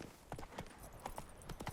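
Hooves of the horse Roach clip-clop in a quick, even rhythm in Witcher 3: Blood and Wine, fairly close and clear with no voices.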